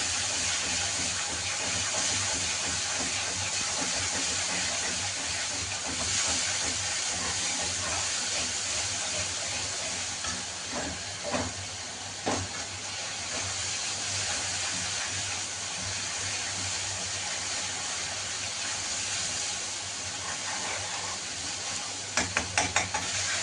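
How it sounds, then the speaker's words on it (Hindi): Spices and gravy fry in a pan with oil, a steady close sizzle and hiss under occasional stirring clicks, with a few sharp utensil taps near the end. "और इसको अच्छे से हमें भूनना है।"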